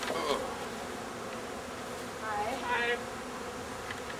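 A honey bee swarm hums in a backyard in Vancouver, a steady faint buzzing that continues under two brief greetings from people nearby.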